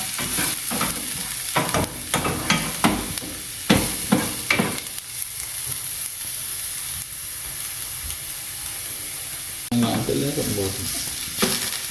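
Ackee and seasonings sizzle and steam in a pot, with a steady hiss broken by a series of scraping stirs and spoon knocks, close and fairly loud.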